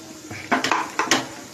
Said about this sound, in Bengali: তো এই মশলাটা দিয়ে আমি মাছটাকে মেখে নেব।